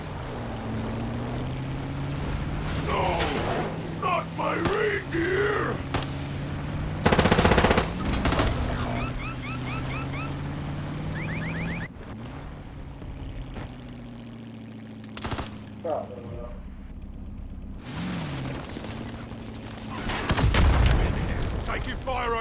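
Video game gunfire crackles in bursts with machine-gun rattles and heavier booms, mixed with engine-like rumble and voices talking over the action throughout.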